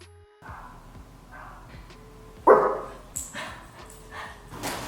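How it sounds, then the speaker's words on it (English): A dog barks angrily in the background, several sharp barks and yips breaking through at irregular intervals over indoor room noise, one louder bark standing out midway. "somebody's dog is pissed"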